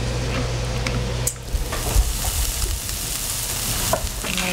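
Eggs scrambling and frying in a pan with a steady close sizzle, a brief lull partway through, then renewed sizzling with light stirring scrapes and no talking.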